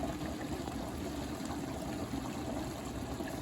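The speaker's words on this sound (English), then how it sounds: "I'm going to go ahead and add a little bit of water from the pasta in there" Starchy pasta water pours steadily into a pan of spinach bolognese sauce, a soft, even liquid rush with a faint trickle, quiet and without talk.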